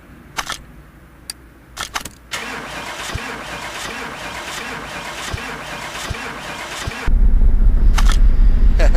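A car engine starting in the Car Mechanic Simulator 2018 video game: a few sharp clicks, a cranking whir for several seconds, then the engine catches and settles into a loud, steady idle.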